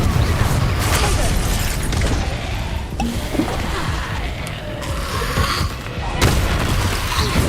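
Explosive Confringo spell blasts from the Hogwarts Legacy video game, booming bursts with crashing debris, several impacts spread across the stretch, with a voice speaking over the action.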